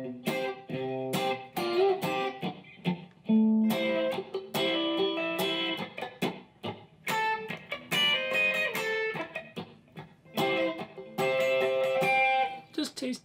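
An electric guitar plays the second-verse part of a live song: short, tasty high chord stabs and fills in a clean tone, bright and up close, with brief gaps between phrases.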